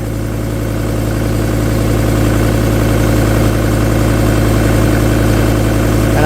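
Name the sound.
custom Fiat car engine idling after cold start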